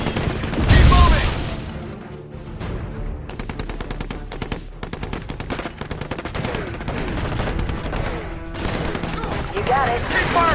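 Rapid machine-gun bursts and a heavy boom in the mobile war game Empires and Allies on Android, loud close fire in dense rattling volleys that continue through the whole stretch, with shouted voices mixed in.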